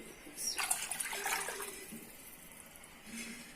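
Water is poured from a bowl into a pot of beef yakhni pulao in a home kitchen, a brief splashing gush that tapers into a soft trickle, then quiet.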